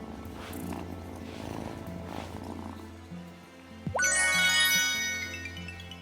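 A cat purring in the farming game Wylde Flowers, a soft steady low rumble under light game music, followed by a bright chiming jingle of tinkling tones.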